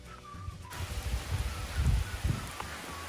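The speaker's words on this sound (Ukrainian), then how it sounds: "Ні, насправді теплий дощ." Warm rain falling outdoors near the village of Lubnia in the Zakarpattia Carpathians, a soft, even hiss with uneven low patters and thumps rising and falling over a few seconds.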